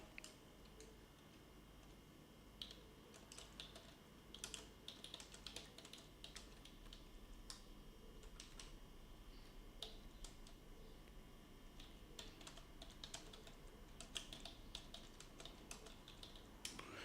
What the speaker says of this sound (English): Oh, what is going on with this keyboard?